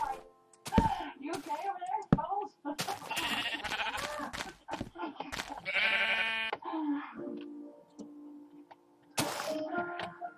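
Sheep in the block-building game Minecraft: short bleats scattered among clicks, thunks and other game noises, with a voice talking and a brief exclamation mixed in.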